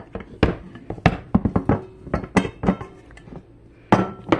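A metal cake pan holding a vanilla buttermilk cake layer, flipped onto a plate, is shaken so it knocks and clinks against the plate in a series of sharp, uneven taps.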